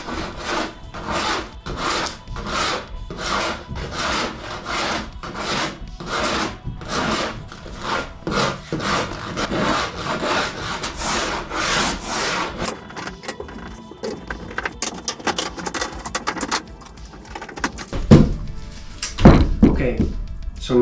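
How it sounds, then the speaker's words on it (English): Sanding of wooden powerboat frame pieces makes a rhythmic, close scraping, with strokes roughly twice a second for twelve seconds, then gives way to irregular scraping and a few sharper knocks from chiseling near the end. "we're sanding and chiseling the entire construct so that we have two exact copies of each other"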